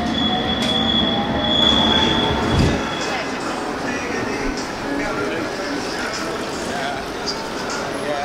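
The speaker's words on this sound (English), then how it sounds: "District Line train to Olympia." A London Underground District Line train runs with a loud, steady roar, a high whining squeal from the wheels, a low rumble, and a brief clunk partway through, all heard from inside the carriage.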